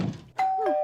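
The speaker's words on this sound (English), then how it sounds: "That sound fades into the ringing of a doorbell" A doorbell rings in an animated show, a bright sustained chime tone following a brief dull knock-like thump, loud and clear with no talking.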